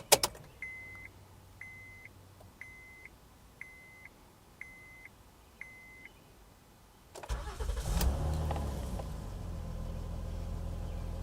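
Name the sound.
Honda minivan V6 engine starting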